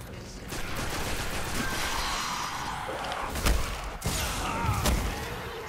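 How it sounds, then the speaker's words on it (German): Grenade explosions in the Destiny video game, a couple of sharp booming blasts with deep thumps punching through a continuous wash of gunfire and game noise. "Noch eine Granate."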